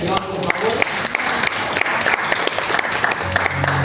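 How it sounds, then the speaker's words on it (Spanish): A church congregation claps loudly and continuously during a worship service, with a dense crowd of hands near and steady. Voices can be heard briefly at the start and end. "Den un fuerte aplauso al Señor, por favor."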